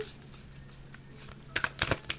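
Tarot cards are shuffled by hand in quick riffling bursts, soft at first and then three louder, crisp shuffles close to the mic near the end.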